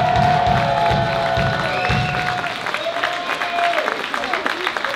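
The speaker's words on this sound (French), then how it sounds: "je veux un tonnerre d'applaudissements pour Hilde." Applause and cheering from the crowd at the Anthem of Steel metal festival in Chauvigny, a dense wash of clapping that starts loud and then thins, with a voice speaking over it and some ringing tones from the stage.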